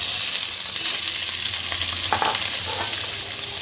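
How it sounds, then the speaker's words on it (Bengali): Soybean chunks dropped into reheated oil in a pan after potatoes, frying with a loud, dense, continuous sizzle and crackle close up, alone without voices. "এবার আলুটা নামিয়ে আমি আবার সেম প্রসেসে সয়াবিনগুলোকেও ভেজে নেব"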